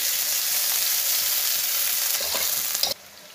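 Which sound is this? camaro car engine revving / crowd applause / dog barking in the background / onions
onions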